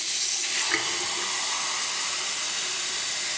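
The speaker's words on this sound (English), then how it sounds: "for the first thing you want to do is to fill the water up with this cup right here" Water pours from a cup into the tank of a Shark S7000 steam mop, a steady close hiss of running water filling the whole moment without pause.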